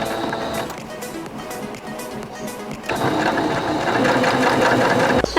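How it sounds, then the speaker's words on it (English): A sewing machine runs in a continuous loud mechanical whir, picking up speed and intensity partway through, while stitching closed the opening of a homemade fabric dog bed. "Now you have to sew this opening closed."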